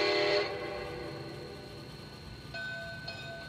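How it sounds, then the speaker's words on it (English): A small toy train steam whistle sounds briefly at the start, then a steady mechanical hum runs underneath while the train's light bell dings twice near the end. "It's a pretty good whistle."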